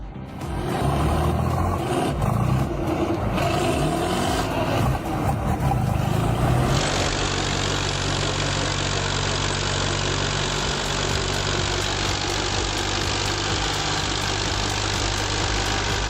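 A heavy tractor on rubber tires, stuck in deep mud, roars steadily and loudly at full power, its pitch shifting partway through before settling into a sustained, strained drone.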